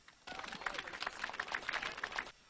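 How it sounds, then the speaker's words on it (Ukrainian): A karaoke show audience applauds briefly in a quick, fairly faint burst of clapping, with voices mixed in. "Ну і безумовно проважаємо оплесками наших дівчат"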